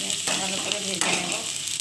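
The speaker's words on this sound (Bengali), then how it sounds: "পেঁয়াজটা ভালো করে ভেজে নেব।" Onion with green chilli frying in a pan for an aubergine and prawn dish, a loud, close, continuous sizzle with faint stirring scrapes and no voices.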